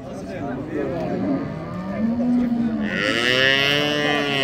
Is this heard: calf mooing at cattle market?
yes